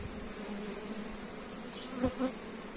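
Steady buzzing of honey bees at a hive fills the air, a soft dense hum with a couple of individual bees droning closer near the end; no speech.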